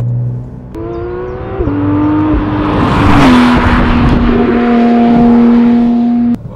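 A nearly new Porsche 991.2 GT3 RS Weissach with a naturally aspirated engine revs hard and close, its high-pitched howl climbing through several steps before holding a loud, sustained note and cutting off abruptly.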